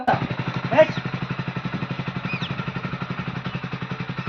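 A motorcycle engine idles close by with an even, rapid thumping pulse throughout, with brief voice-like sounds near the start.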